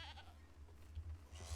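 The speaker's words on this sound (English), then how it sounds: "That's a lot of goats." Goats bleating in the video game Medieval Dynasty, a few brief close cries over low rumbling background sound.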